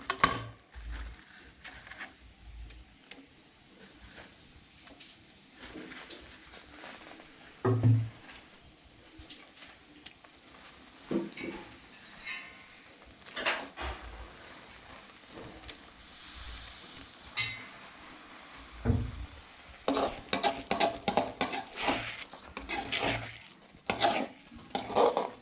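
Fried veg Manchurian balls tipped into a pan and stirred, with a metal spoon clinking and scraping against the pan in uneven bursts over a faint sizzle, moderately close.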